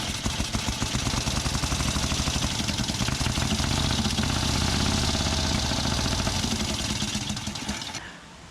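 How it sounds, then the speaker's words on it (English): A pre-1919 rally vehicle's engine, just refitted after an engine swap, runs at a loud, rapid, chugging idle close by for several seconds before cutting off abruptly at the end. "Let's fire it up and make sure we're okay."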